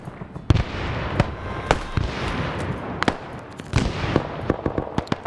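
Grenades going off in a Vietnam War combat game, a rapid run of sharp cracking blasts and pops over a dense rumbling din, loud and close.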